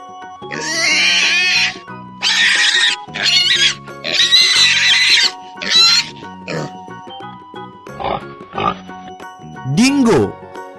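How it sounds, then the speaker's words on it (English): Wild pig grunting and squealing in loud, close bursts, with rising and falling harsh calls and short pauses between them, and no talk. "wild pig,"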